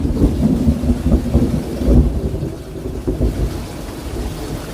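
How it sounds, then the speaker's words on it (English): Heavy thunder rumbles low and loud through a rainstorm, rolling continuously with steady rain beneath and no voices. "God, I love the sound of thunder."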